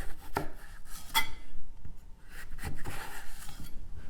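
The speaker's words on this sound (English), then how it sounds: "I like to cut it in half first, and then you slice it very thin from the top down." A knife slices an apple very thin from the top down, for baked apple roses. Crisp, irregular cutting strokes sound close by, with no talking.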